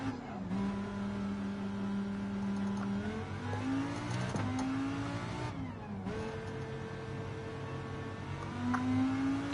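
A GT4 race car's engine revs up and shifts through gears as it pulls out of the pit lane in Gran Turismo 7, a steady whining drone rising in pitch with each gear, at moderate level with no talking.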